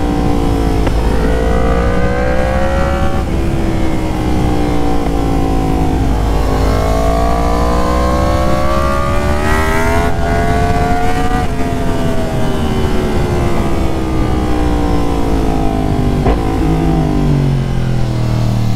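Yamaha FZ10 motorcycle engine revving hard during a wheelie, loud and close, with long rising and falling throttle sweeps and gear changes over continuous wind rush.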